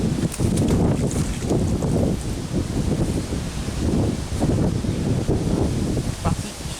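Steady outdoor wind buffets the microphone with rustling, gusty noise throughout while magnet fishing on the Epte river at Gisors, and a voice is faintly present at times.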